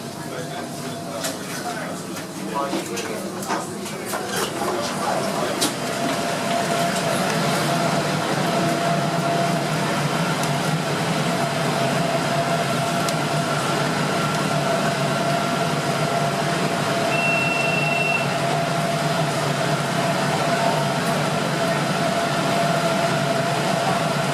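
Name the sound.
Sydney light rail tram riding on the Dulwich Hill extension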